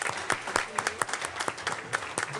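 Audience applause for a high school state winner at a New Orleans gathering, a short burst of steady clapping from a crowd of moderate size.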